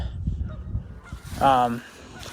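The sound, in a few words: goose honking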